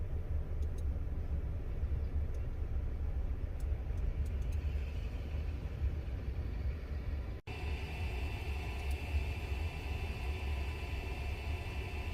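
A Tesla version 3 Supercharger handle's cooling fan whirs steadily, giving a constant broadband rush with a low rumble underneath. The noise continues throughout with a brief dropout partway, and no one talks.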